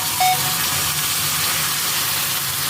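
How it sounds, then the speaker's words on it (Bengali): Chicken pieces marinated for about eight hours are added one by one to a hot pan for chicken kosha, giving a loud, continuous close hiss and sizzle. "এবার মাংসগুলো আমার এক এক করে ছাড়বো।"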